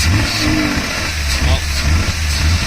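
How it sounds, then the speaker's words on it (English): A 1979 Datsun 280ZX engine running rich on oversized replacement injectors, idling loud and steady with brief revs. It is heard close up and on its own, with no talk over it. "Alright, so magically we got it running again"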